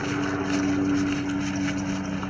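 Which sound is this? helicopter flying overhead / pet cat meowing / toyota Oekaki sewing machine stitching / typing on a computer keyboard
helicopter flying overhead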